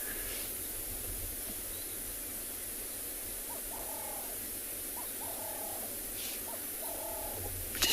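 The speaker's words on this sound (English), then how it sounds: "Just listen to all the birds in the background." Birds calling in the bush during a sunrise safari in January, repeated short chirping phrases spread through the clip, moderately distant, set against a steady hiss of ambient outdoor noise with no talking.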